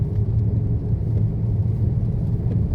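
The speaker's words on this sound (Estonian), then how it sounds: "autojuhtimine Karpaatides." A car drives at night on a mountain road in the Carpathians, giving a low, steady interior rumble of engine and tires, continuous and close.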